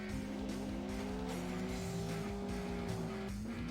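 A race car engine in the video game World Driver Championship drones with a sputtering, stalling-like tone, steady and loud alongside squealing tyres, with shifting pitch lines and no talking.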